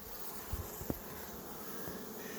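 Honeybees, drones and workers alike, buzz softly around an open beehive during an inspection, a faint continuous hum with a few low knocks and bumps near the start.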